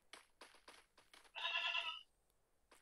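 A goat bleats in the Free Fire video game: one loud, wavering bleat of about half a second, following a run of quieter rhythmic game effects.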